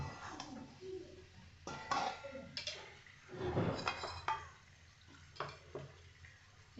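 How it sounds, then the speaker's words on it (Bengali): Taro (mankochu) with spices being fried and stirred in a pan for a prawn and taro masala, with irregular clanks and scrapes of a utensil against the pan over a soft background sizzle. "এবার আমি মশলার সঙ্গে ভালো করে কষে নেব মানকচুগুলোকে"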